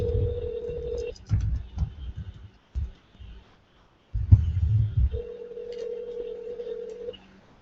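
A telephone rings on the line in two long, steady buzzing tones separated by a pause, with low rumbling handling noise in between.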